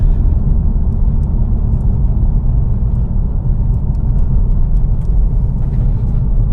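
A steady low engine rumble from a 2016 Subaru WRX cruising slowly, heard from inside the car, constant and even throughout with no talking.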